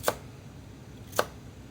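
A knife cuts thin slices of daikon radish on a cutting board, two crisp, separate chops about a second apart against a quiet background.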